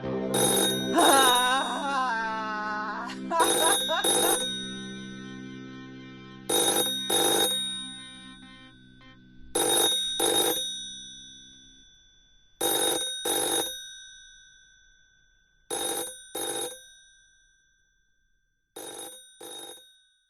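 An old-style telephone bell rings in repeated double bursts, loud and close, with short pauses between rings and no talking.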